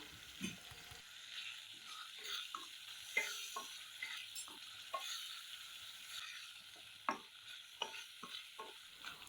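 Steady bubbling and sizzling of a thick tamarind gravy for puliyodarai simmering in a pan, with scattered small pops and clicks, close and continuous with no voices.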